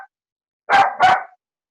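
Two quick sharp yaps from small dogs in close succession, fairly loud against silence.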